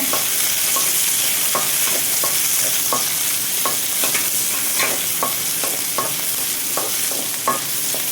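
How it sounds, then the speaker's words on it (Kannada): Onion, garlic and ginger frying in a pan crackle loudly and close, with regular stirring scrapes of a spoon across the pan every half second or so. "ಇದು ಚೆನ್ನಾಗಿ ಹುರಿಬೇಕು."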